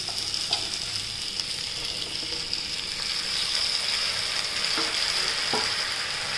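Fenugreek seeds frying in oil with washed toor dal and fresh coriander produce a soft, continuous sizzle, with a few light stirring taps scattered through it.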